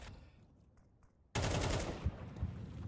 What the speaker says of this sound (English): Shot from Grimbo